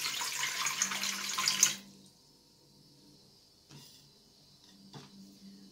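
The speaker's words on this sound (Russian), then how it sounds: "берем большую кастрюлю, наливаем 2 литра холодной воды" Cold water runs into a large pot with a loud rushing pour for about two seconds, then stops, leaving near silence broken by a couple of faint clunks.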